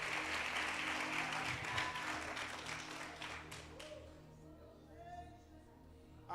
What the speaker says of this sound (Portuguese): se é para aplaudir, glorifica